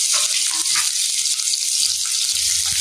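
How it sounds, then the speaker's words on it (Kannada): Chopped ginger, garlic and onion frying in a pan, a loud continuous sizzle close up, with a soft low murmur of voice faintly underneath toward the end. "ಸೊ ಅದು ಫುಲ್ ಬ್ರೌನ್ ಆಗೋವರೆಗೂ ಇನ್ನು ಫ್ರೈ ಮಾಡ್ಕೊಳ್ಳಿ ನೋಡಿ"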